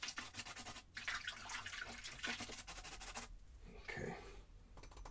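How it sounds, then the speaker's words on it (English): Oil painter's brush swished and rinsed in a water jar during a beginner landscape session, a steady close watery splashing that pauses briefly partway, then resumes with a brief louder burst of sloshing near the end. "Let's go ahead and rinse that brush off."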